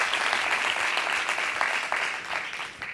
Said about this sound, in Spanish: pido por favor un aplauso a todo el equipo que ha hecho posible la jornada